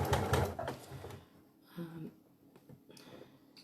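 A sewing machine stitches the side seam of a doll's dress, its fast mechanical whirring close and steady for about a second before stopping, followed by soft handling sounds.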